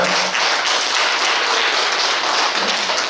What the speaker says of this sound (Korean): 우리 최영정 교수님께 큰 박수 한번 드릴까요?